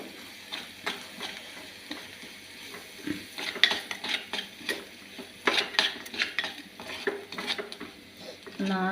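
A spoon stirs turmeric, pepper and chili powders into onion masala in a metal pan for prawn theeyal, scraping and clinking in repeated strokes over a faint sizzle, with no talking.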